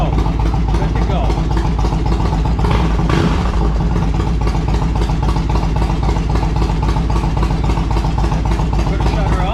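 A 2006 Yamaha Road Star 1700cc motorcycle idles loudly and close by in a steady, lumpy rhythmic thump, with a brief blip partway through and a voice speaking over it.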